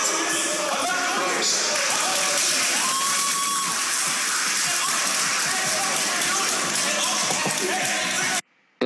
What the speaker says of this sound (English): right there you can see people cheering as they arrest a man just for questioning John Kerry